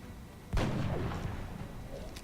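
A single heavy gunshot from a tactical video game cracks out with a booming tail that rolls away into a low rumble, followed by faint ambient game noise.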